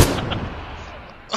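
A rocket launcher explosion in a shooter video game, a loud booming blast that rumbles and decays over about a second before a second sharp burst at the end.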